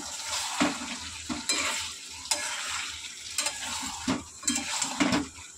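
Meat being stirred and fried in a pan as it finishes cooking down, a steady sizzle broken by repeated scraping stirs and occasional clinks of the utensil against the pan, close and moderately loud with no talking.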